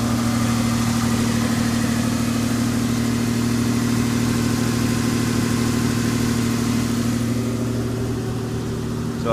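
A 1995 Toyota T100 SR5 pickup with a brand-new engine and new clutch idles steadily after start-up, a constant close, loud low hum with no revving and no voices.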